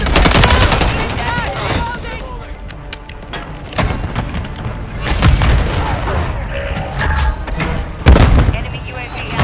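A frag grenade is thrown and explodes amid sustained gunfire in Call of Duty: Modern Warfare III, with loud bursts of rapid shots and several heavy booms, and voices calling out beneath the combat.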